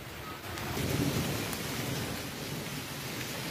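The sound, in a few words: heavy rain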